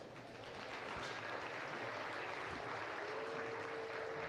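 Crowd at a county fair livestock arena applauding a Hereford class winner, a steady, even wash of clapping at moderate level that holds for several seconds without pause.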